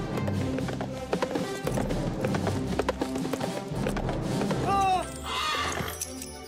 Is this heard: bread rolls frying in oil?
no